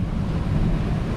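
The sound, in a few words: strong wind and waves while solo sailing at sea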